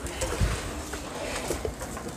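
Pigeons in a loft give soft, low cooing calls, a few brief coos close by over a faint background hum.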